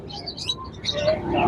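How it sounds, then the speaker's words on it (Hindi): Soft pigeon coos and faint bird chirps amid a noisy, busy market background, close and fairly quiet. "बहुत ही खूबसूरत जोड़ा है जी कबूतरों का।"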